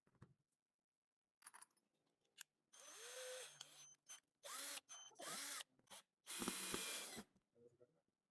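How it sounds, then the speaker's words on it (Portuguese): A cordless drill/driver bores into wood with a wood bit in several loud close whirring bursts that start and stop in irregular pulses. Quiet handling clicks fill the gaps between bursts. "eu peguei uma broca de madeira e vou furar aqui para vocês verem o desenvolvimento"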